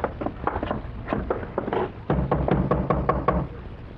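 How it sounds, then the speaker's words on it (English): Knocking on a door at the top of snowy steps, two bursts of sharp repeated raps, the second sequence louder and heavier, close by with no talk. "Knock again."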